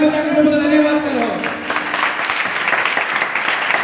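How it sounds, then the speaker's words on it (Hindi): A church congregation at a Christian worship service claps hands in thanks. A broad wash of crowd applause swells in after a voice and continues under loud speaking from the front. "ताली बजाकर प्रभु का धन्यवाद करो।"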